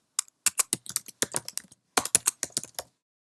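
Close, crisp keystrokes on a computer keyboard, rapid separate clicks in two short bursts with a brief pause between, over a silent background.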